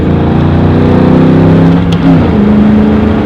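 Ford Mustang Mach 1 engine pulling hard in second gear through a roundabout, a steady loud drone rising in pitch with a brief dip near the middle before climbing again, close and continuous.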